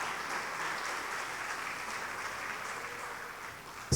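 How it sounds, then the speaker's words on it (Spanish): A church congregation claps together in a steady, even wash of applause that holds for several seconds, moderately loud and without talking. "Un aplauso al Señor por ese regalo para la hermana."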